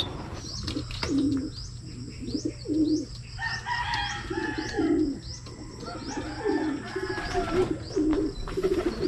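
Pigeons at a racing pigeon loft, repeated soft low cooing near at hand, with scattered chirps and another bird crowing in the background.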